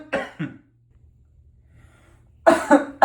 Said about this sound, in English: How long have you been coughing like that?